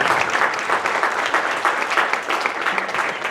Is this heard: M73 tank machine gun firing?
no